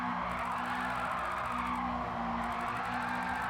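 Tires squeal and skid as a car drifts through controlled slides in the racing game Gran Turismo 7, driven on a wheel. Engine drone and sustained tire screech run loud and steady throughout, with no talking.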